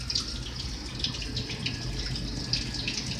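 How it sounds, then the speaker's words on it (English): Hot, steamy water gushes steadily onto a floor and down a full drain, a continuous close hiss and splash with small droplet accents and no voices. "There's all the water pouring out of it, and obviously hot steamy water."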